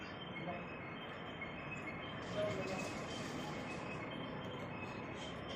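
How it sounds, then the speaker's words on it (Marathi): A train at Pune railway station gives off a steady, moderately loud rumble with a faint metallic hiss, unbroken for several seconds, and no voices rise above it. "गावी जाण्यासाठी रेल्वेने"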